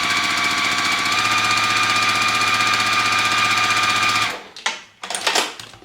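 A sewing machine stitches quilt pieces in a loud, steady mechanical whir that runs for about four seconds, then stops abruptly, followed by a few brief rustling handling sounds.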